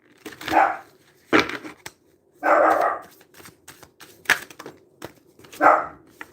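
Several dogs barking indoors at home, a run of loud, close barks in irregular bursts with brief quiet gaps.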